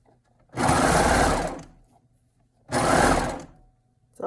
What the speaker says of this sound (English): Now I'm sewing in the round